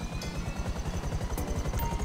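Helicopter in GTA 5 Online with a steady low rotor thump pulsing evenly under a broad engine whine, loud and continuous throughout.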